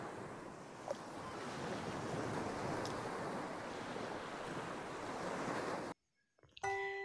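Sea waves wash in a steady, broad roar for several seconds, then cut off abruptly into silence followed by a few brief tones.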